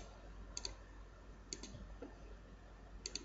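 Computer mouse clicks while modelling in Maya, faint paired clicks repeating three times at close range in a quiet room.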